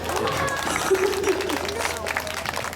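Audience at a busking performance clapping, a moderate, steady wash of applause from a crowd that lasts the whole stretch, with a voice talking over it.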